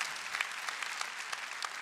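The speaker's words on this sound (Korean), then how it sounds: "박수 치라." A church congregation at a Sunday worship service breaks into applause, a dense, even patter of many hands clapping at once. It runs for about two seconds at moderate loudness with no talk over it.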